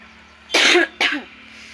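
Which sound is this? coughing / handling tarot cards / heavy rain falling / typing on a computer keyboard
coughing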